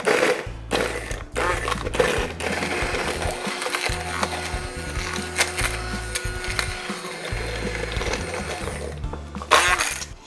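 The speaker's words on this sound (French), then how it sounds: "Et on va mixer pour essayer de récupérer un maximum de..." A kitchen blender whirs in stuttering pulses through a champagne and langoustine sauce. The motor bursts start and stop unevenly over about ten seconds and are heard up close.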